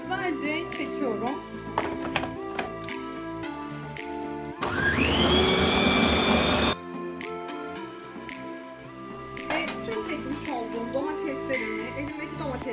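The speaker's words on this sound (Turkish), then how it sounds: "mutfak robotunda şuradaki çentiyi alıp güzelce domateslerimi çektiriyorum" A kitchen food processor chops peeled tomatoes in one loud, dense whirring burst of about two seconds, framed by someone talking before and after.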